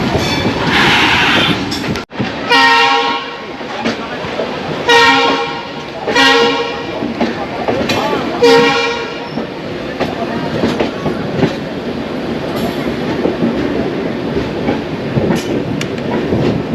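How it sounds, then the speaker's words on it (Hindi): Vishakha Express pulling into Visakhapatnam station, with a continuous rolling rumble of wheels and carriages, a few sharp horn toots early on, and station noise throughout. "अभी ट्रेन पहुंच चुकी है विशाखापट्टनम"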